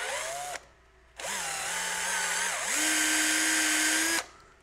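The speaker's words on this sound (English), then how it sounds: "So I'm gonna drill it out" A power drill bores out the inside of a hose so it can fit over a knurled end nipple, whining in steady bursts that shift pitch as the bit loads and frees up, with short pauses between passes.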